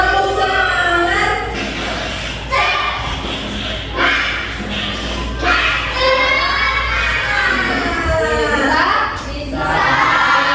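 A class of children performs a tepuk semangat clapping chant together, their loud voices rising and falling in a sung rhythm over sharp claps and thumps, with crowd noise throughout.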